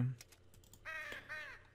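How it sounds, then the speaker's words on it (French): Crows caw in the video game Dofus, two harsh calls close together. Keyboard typing clicks sound quietly before and between them. "le bruit des corbeaux, j'étais plus capable"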